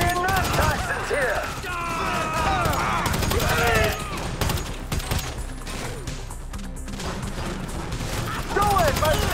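Soldiers firing on the player in Grand Theft Auto V, a video game: dense, continuous volleys of gunshots and automatic fire, loud and close, with voices shouting in the mix.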